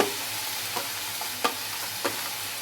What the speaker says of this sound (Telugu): ఈ ఆయిల్ వేడెక్కాక మనం తరిగి పెట్టుకున్న ఈ క్యాప్సికమ్ ముక్కలు ఉల్లిపాయ ముక్కలు